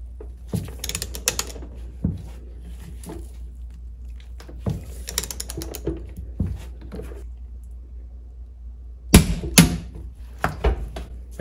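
Torque wrench tightening the hinge pin on a Mercruiser Alpha outdrive, quiet intermittent ratcheting clicks in short bursts, ending with a sharper, louder click cluster near the end.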